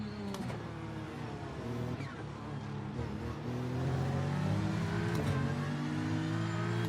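A GT3 race car in iRacing at Monza revs its engine with rising and falling tones that shift through gears, the engine growing louder and more sustained in the second half.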